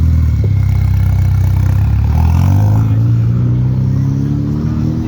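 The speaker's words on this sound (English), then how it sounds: "This is the sound of a 4-cylinder engine" A discontinued Ford Focus 4-cylinder engine runs close by in a Milan street, a loud steady low drone with a slight pitch rise midway, heard alone.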